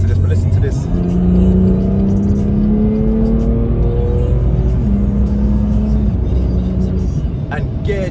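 A coupe's engine pulls hard and loud through quick successive gear changes, its note climbing and dropping several times. A voice talks over part of it.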